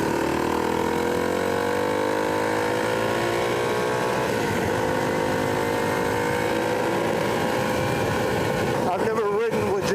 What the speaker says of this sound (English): Jax is going to come out on the trail with his Honda 250R